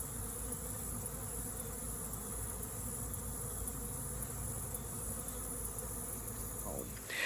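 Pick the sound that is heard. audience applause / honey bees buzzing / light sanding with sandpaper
honey bees buzzing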